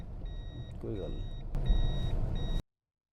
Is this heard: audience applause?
no